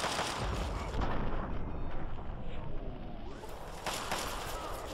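A grenade blast in the video game Fallout 3, a loud, dense roaring boom that rumbles on for several seconds, with a fainter burst near the end.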